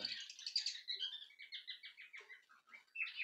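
Java sparrows, one silver and one brown, chirp in quick, bright rhythmic bursts close by in a quiet room, their song repeating in short trilled phrases.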